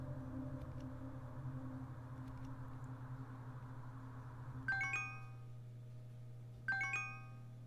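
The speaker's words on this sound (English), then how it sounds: "Your phone rings, stirring you from your dreams." A phone ringtone chimes twice in bright, bell-like bursts about two seconds apart over a steady low hum, fairly faint and with no voices.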